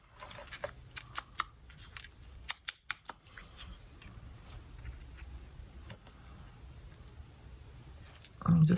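Scissors snip a word out of paper for a junk journal craft, giving a quick run of close, crisp cuts and clicks followed by quieter handling rustle.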